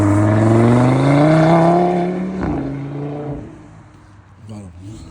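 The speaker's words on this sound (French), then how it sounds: "je vous jure que le bruit vraiment 5 cylindres, c'est un truc de ouf" A five-cylinder Audi RS3 engine revs up with a rising harmonic growl that climbs for about two seconds, then drops away into a lower, rougher idle, loud and close, with someone talking over the later part.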